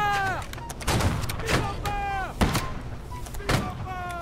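Cannon fire in Holdfast: Nations at War, with a few heavy booming blasts spaced roughly a second apart, ringing out among battlefield noise while players talk over it.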